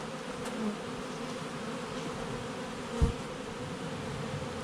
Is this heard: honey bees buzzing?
yes